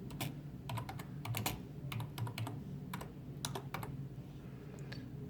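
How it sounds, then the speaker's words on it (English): Text is typed on a computer keyboard in a steady run of close, crisp keystrokes with brief pauses, heard alone with no one speaking. "And I just have to type out some text."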